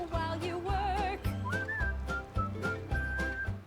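Someone whistles a melody alone in a bright, tuneful phrase of short notes and slides, over a steady backing beat.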